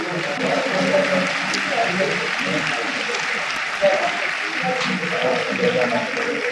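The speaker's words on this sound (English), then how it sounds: "Give Neha a big round of applause once again." Large audience applauding at a prime minister's birthday celebration event, steady dense clapping filling the whole stretch with a crowd murmur and voices underneath.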